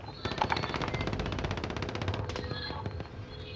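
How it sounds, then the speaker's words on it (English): Rapid automatic gunfire in a video game, a dense burst of close, loud shots rattling steadily for a few seconds as the player gets hit. "Getting shot up. We're getting shot up."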